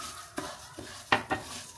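A spoon scraping and stirring bulgur frying in a pan with a soft sizzle underneath, a few distinct scrapes at uneven intervals, close up and without speech.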